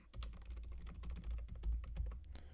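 Rapid typing on a computer keyboard, a quiet, close stream of key clicks with no voice.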